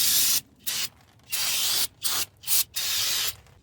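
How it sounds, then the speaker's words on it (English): Brake cleaner sprayed onto a Toyota Sienna front brake rotor in a series of short, loud, close aerosol hisses, bursts of varying length separated by brief silent pauses. "I'm gonna spray brake cleaner."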